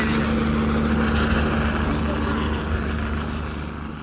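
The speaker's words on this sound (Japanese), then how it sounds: "防災ヘリ" Loud, steady drone of a disaster-relief helicopter overhead in Usa City, Oita Prefecture, Japan, a constant engine hum that slowly fades toward the end.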